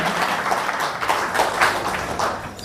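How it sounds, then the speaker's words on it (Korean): Audience applause at a Korean Hungsadan assembly lecture, a steady wash of many hands clapping throughout, fairly close and full, with no voices over it. "다시 한번 크게 박수 한번 해주실까요?"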